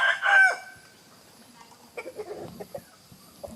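A fighting rooster lets out a loud, close crow at the start, followed by softer clucking and scratchy fowl noises.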